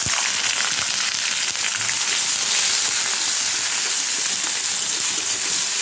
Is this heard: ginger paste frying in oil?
yes